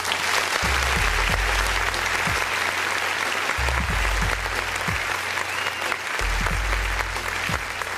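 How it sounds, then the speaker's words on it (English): Applause closing a talk radio show, continuous dense clapping from start to finish with a repeating low bass thump running beneath it, suggesting a music bed or added sound effect. "Clap it up."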